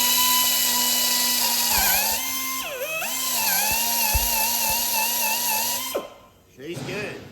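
A drill reams out a puncture hole in a tire, giving a steady, high whine close by that wavers in pitch as it bears down, then stops near the end and briefly starts again.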